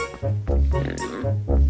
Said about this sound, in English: Wow, I just saw a pig down here.